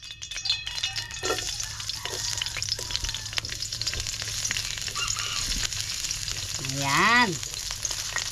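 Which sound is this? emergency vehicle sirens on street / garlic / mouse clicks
garlic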